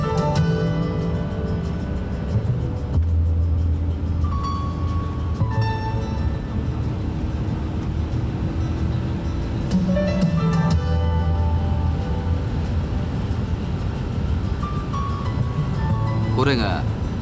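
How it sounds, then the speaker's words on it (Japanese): Interior cabin noise of a 1989 Toyota Celsior UCF10 cruising at 160 km/h, a steady broadband road and wind roar with a low engine drone, while someone speaks over it. "これが時速160キロの車内音だ"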